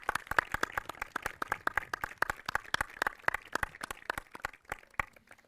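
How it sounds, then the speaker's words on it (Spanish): Audience applause welcoming a speaker at a public dialogue event, a quick run of crisp, closely spaced claps from a modest crowd, fairly quiet and steady for several seconds before tapering off. "Lo recibimos con un fuerte aplauso."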